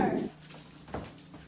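A puppy whimpers softly indoors, a faint high whine followed by a couple of small yips, quiet and close with low room noise.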